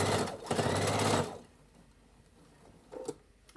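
Sewing machine stitching bias binding on fabric, a fast loud mechanical run lasting about a second, then quiet, followed by a brief faint stitch near the end.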